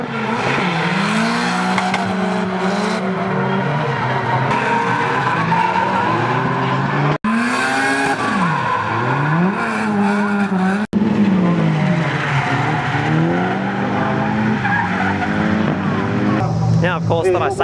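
Drift cars skidding through a track corner at an all-girls drift day, engines revving hard and tires squealing loudly in repeated sweeping passes, with steady rising and falling engine tones close by.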